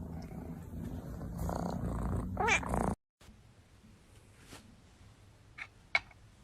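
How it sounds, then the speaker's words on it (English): A domestic cat purrs close by in a steady low rumble for about three seconds, then it stops abruptly and a quieter room follows with a few faint clicks and small sounds. "Where's that purring coming from?"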